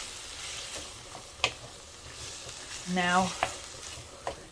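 Tomato sauce being stirred in a pan with soft sizzling and a few spoon scrapes and taps, close up, with a brief spoken word.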